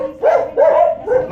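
A dog barks three times close by, short sharp yaps spaced evenly, the last one softer.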